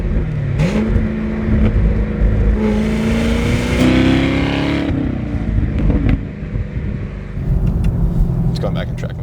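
A 2019 Chevrolet Camaro 1LE with dual sport exhaust revs loudly, the engine note climbing and falling through several swells with crackling pops, heard up close, with a voice over part of it.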